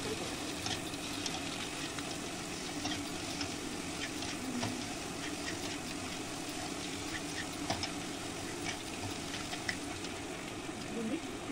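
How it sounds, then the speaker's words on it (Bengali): Ginger-garlic paste frying with spices in a pan gives a steady, even sizzle that runs throughout at a moderate level, with no talking. "এবার আদা আর রসুনের পেস্টটি দিয়ে ভালো করে আবার মিশিয়ে নেবেন"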